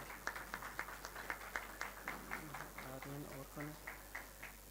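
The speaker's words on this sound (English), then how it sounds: "Please keep clapping." Audience clapping at a university graduation ceremony, a thin, scattered patter of hands that continues while a voice reads out graduates' names over a loudspeaker.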